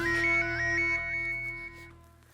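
A phone ringtone plays a short melodic electronic tune, loud and close, that fades out after about two seconds in an indoor scene from a Hindi sitcom.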